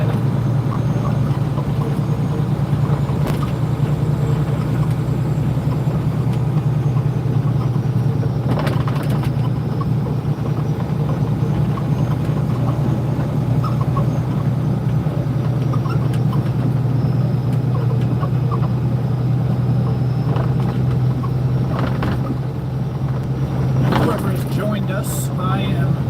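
A semi truck driving on a snowy road near Buffalo, NY, its engine giving a steady, loud low drone throughout as it works through gears on slippery ground.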